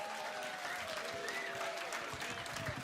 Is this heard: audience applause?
yes